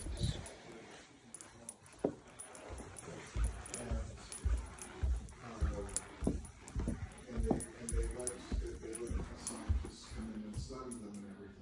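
A dog yips and whines close by at a house with a magnolia garden, in short repeated bursts, while someone talks over it.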